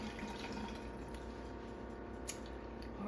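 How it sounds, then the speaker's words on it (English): Tap water runs in a steady, soft stream while Mickey measuring spoons and cups are washed in a home kitchen, a low continuous wash with faint splashes throughout. "I'm just going to wash up my little Mickey measuring spoons and cups"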